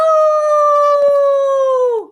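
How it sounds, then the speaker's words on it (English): A single long, loud coyote howl holding a steady pitch for about two seconds before dropping off, close and clear with nothing else behind it. "He howled."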